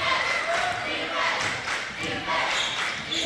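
Loud, steady crowd noise fills a packed high school gym during an NHIAA quarterfinal basketball game, a continuous roar of voices with occasional thumps and shouts.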